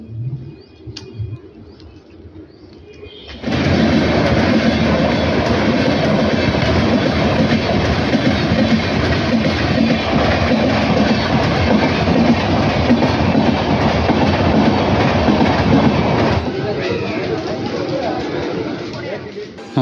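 Masagram–Bankura MEMU local passenger train in West Bengal running loudly on the rails with steady rumble and clatter, starting abruptly after a few seconds of quieter ambience and continuing to the end.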